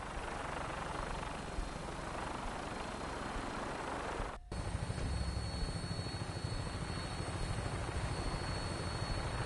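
Aircraft engine drone in a post-apocalyptic role-playing game, a steady loud whirring hum on final approach to an airport that cuts out for a split second, then resumes as a heavier rumble.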